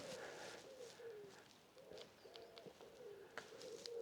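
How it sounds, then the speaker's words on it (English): In a wooded area, birds call quietly, with soft, repeated dove-like coos and scattered brief chirps over faint background noise, sounding fairly distant. "I don't know if you can hear them, but all the birds."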